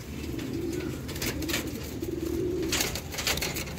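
Pigeons kept by a breeder cooing in soft, repeated throaty phrases, fairly close and steady, with faint background noise and no talk.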